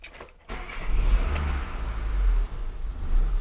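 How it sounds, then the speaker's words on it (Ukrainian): A car engine cranks and catches, then settles into a steady, close rumbling idle with slight revving swells. "Запускаємо автомобіль."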